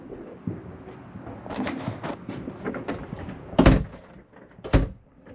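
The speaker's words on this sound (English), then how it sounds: "Closing up our doors, our vents." Doors and vents on a 2024 Catalina Legacy 283RKS travel trailer being shut one after another, a run of soft knocks and latches building to two sharper, louder closing thuds near the end, with no talking.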